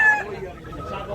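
A yellow-legged gamecock rooster clucks close by in short throaty bursts while someone talks over it.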